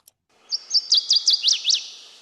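A loud, chirpy songbird call from a beaver-pond and swamp habitat rises after a single tiny click, with a run of about seven rapid, emphatic sweeping notes growing stronger toward the end, heard alone and close.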